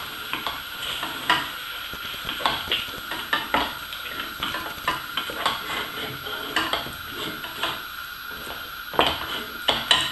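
Cassava foufou stirred in a pot after a splash of water is added for Cameroonian gombo sauce, giving irregular soft scrapes, knocks and sticky squelches close up, with no voices.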